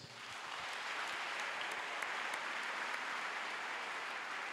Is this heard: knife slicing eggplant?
no